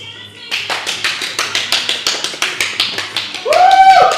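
Steady rhythmic hand clapping greets the host of a talk show, about a dozen crisp even claps at a moderate pace, followed by a brief tonal electronic sound at the end.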